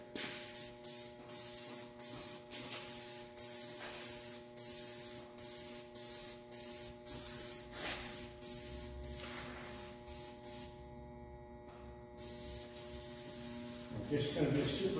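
An aerosol can sprays a super light first coat of paint over black on an Astro van, in steady repeated short bursts with a faint mains hum between them.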